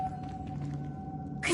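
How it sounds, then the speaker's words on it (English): A Leviosa levitation spell cast in a video game gives a low sustained magical hum with a steady ringing tone, then ends in a sudden bright shimmering burst. "Leviosa"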